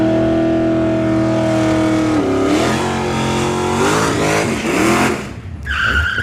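A nitrous-fed Fox body car launches at a drag strip with a loud, sustained engine roar that rises and shifts in pitch, ending in a brief tire squeal.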